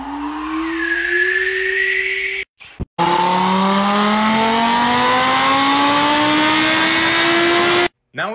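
A voice imitates a Tesla Model S Plaid driving off: a loud, close electric whine rising steadily in pitch, cut by a brief gap near the middle, then climbing again and ending abruptly.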